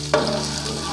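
Ginger garlic paste sizzles in hot oil for a green chana pulao, a steady close frying hiss that begins with a sharp burst as the paste hits the pan, with no talking.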